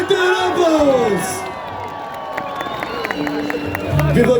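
A large New Year's Eve crowd in a city square cheers, whoops and claps for a singer, with a swell of shouting and scattered applause up close, voices mixed in.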